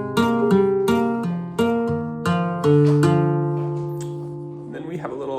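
Flamenco guitar plays a soleá remate: a run of plucked notes in 16th-note triplets, then a held ringing note that fades, close and clear with a faint murmur at the end.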